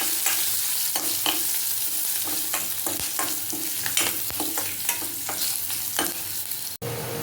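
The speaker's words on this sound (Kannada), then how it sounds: "ಫ್ರೈ ಮಾಡ್ಕೊಳ್ಳಿ." Crushed garlic, red chilli, turmeric, curry leaves and asafoetida sizzle steadily in hot oil for a tomato dish, close and loud, with spoon strokes scraping the pan in an irregular rhythm throughout and no talking.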